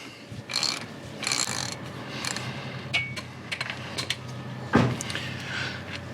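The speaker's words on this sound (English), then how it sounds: "the first thing we're gonna wanna do is remove these two bolts on the passenger side of the differential" Ratchet work on the passenger-side bolts of a Ford Super Duty differential: close, intermittent metallic clicks and clunks in short bursts with pauses between them.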